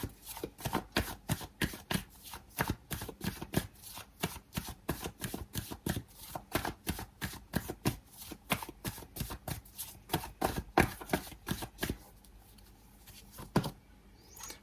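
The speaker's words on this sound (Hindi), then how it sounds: "मैं कुछ कार्ड निकाल लेती हूँ यहाँ पे" Tarot cards are shuffled and drawn by hand, a rapid train of crisp riffling snaps in bursts, close and loud, easing off near the end. No one speaks.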